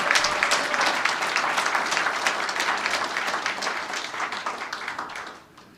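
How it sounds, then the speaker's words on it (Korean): Welcoming applause from an audience at a civic town meeting with a city mayor, a dense steady crowd clapping that holds loud throughout and fades slightly at the end. "환영의 박수 부탁드립니다."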